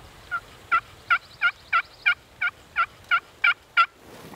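A slate turkey call makes a soft hen tree yelp: eleven evenly spaced raspy yelps in a steady rhythm, close and clear against a quiet outdoor background.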